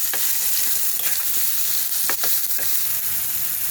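Spices and chillies with salt and turmeric fry in a hot pan under a constant loud sizzle, while a spoon stirs and scrapes in quick irregular strokes close by, no voices.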